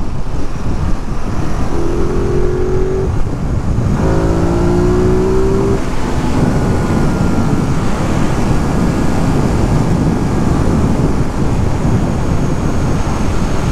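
Ducati motorcycle engine cruising at about 50 in sixth gear, a loud, continuous low rumble mixed with heavy wind roar, with a brief tonal whine as the engine note shifts early on.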